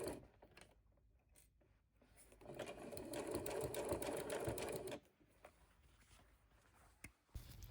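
A sewing machine stitches fabric rug strips in a close, rapid mechanical whir, running in a few bursts with brief pauses and soft handling noises between.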